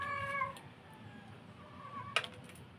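A cat meows once close by at the start, a short tonal cry. Then comes a quiet stretch of room hiss, and near the end one sharp little click.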